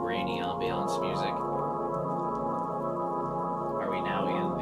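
Rainy ambiance music streams steadily from start to finish, a sustained tonal bed with rain-like texture, while a person talks over it at the beginning and again near the end.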